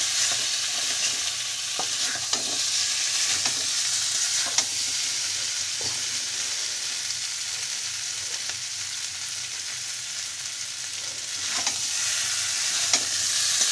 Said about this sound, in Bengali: ভাজা ভাজা করে নেবেন ভালোভাবে।